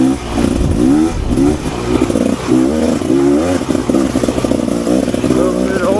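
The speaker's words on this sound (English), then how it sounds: "I'm going to put it in third and lug it around." Rieju Ranger 300 dirt bike fitted with an FMF Gnarly exhaust, lugging at low revs in third gear on an overgrown trail, giving a steady, loud, throbbing engine note that pulses slightly throughout.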